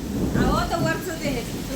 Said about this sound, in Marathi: पाऊस बघा बाहेर खूप पाऊस आलाय